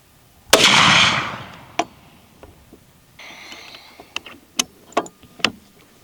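A single loud, close 450 Bushmaster rifle shot firing a 225gr FTX load, a sharp blast with a long rolling decay, followed by scattered faint clicks and handling noises.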